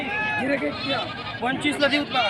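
Osmanabadi goats bleat at a busy goat market in Gangakhed, with several wavering calls rising over constant crowd chatter and nearby talk.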